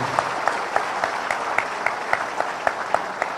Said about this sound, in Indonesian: yang keras tepuk tangannya.